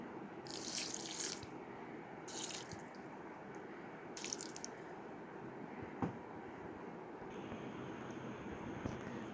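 A quarter cup of water poured over one and a half cups of sugar to start a thick syrup for besan laddoos, heard as several short splashing bursts over a low, steady kitchen background.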